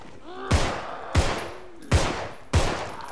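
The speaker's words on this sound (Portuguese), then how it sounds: "Como é que eu estou a falhar tanto tiro?" Four heavy gunshots fire at a steady pace in a Halloween-themed Contagion game map, each a loud booming crack with a short ringing tail, synthetic and punchy like game weapons.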